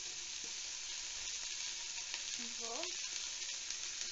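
Bacon fries in a Dutch oven as a continuous soft sizzle, fairly faint. A voice speaks briefly and hums over it near the middle.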